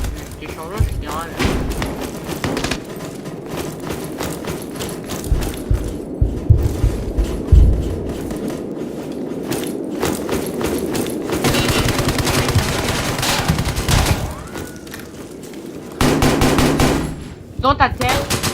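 Gunfire in a Roblox shooter game, sustained bursts of loud automatic shots and scattered single cracks throughout, with people talking over them.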